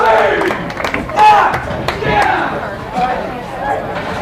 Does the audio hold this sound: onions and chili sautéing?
no